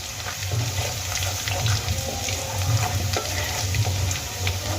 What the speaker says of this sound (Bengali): রসুন দেখো আমি হালকা ভেজে নিয়েছি